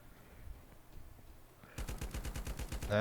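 Rapid automatic gunfire aimed at zombies in the mobile survival game LifeAfter, a steady run of evenly spaced shots starting abruptly after quiet ambience and growing louder toward the end.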